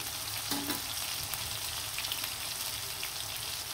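Potatoes fry in oil in a pan, making a soft, steady sizzle with faint crackles that continues evenly throughout, heard alone.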